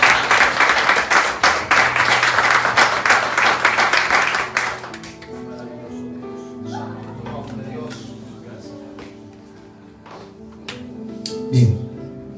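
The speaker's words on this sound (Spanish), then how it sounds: "denle un fuerte aplauso al Señor" A church congregation claps loudly and densely for about four seconds, then the applause breaks off. Softer, scattered sounds and a voice follow.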